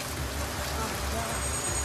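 Heavy, pounding rain falls steadily as castaways return to camp on a Thai island, a dense broadband wash with low rumble throughout and no clear voices.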